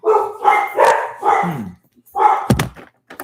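Dogs bark loudly and nearby in a quick series of woofs, followed after a short pause by one more bark and a dull thunk.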